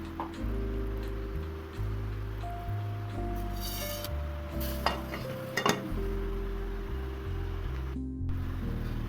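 A pot of matar paneer on the stove is handled with metallic scrapes and clinks as a lid is set on it, over a steady low hum of cooking and faint sizzling, close and moderately quiet.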